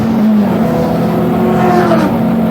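A Class B saloon car in a Clubmans race roars past toward the finish line, a loud, steady engine drone with a shifting pitch and constant background noise.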